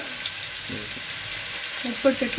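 Beef fries in a pan with shallots, onion and tomato, a steady close sizzle with soft stirring movements throughout, and faint voice-like murmurs near the end.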